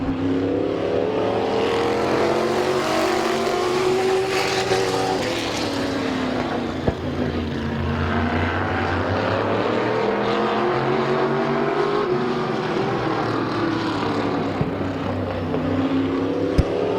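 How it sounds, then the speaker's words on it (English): Race cars circle the track at Midvale Speedway, a continuous engine roar rising and falling as the field passes, loud and steady throughout with some wind buffeting. "Derek Gruhl, your race leader, 4 in, 4 to go."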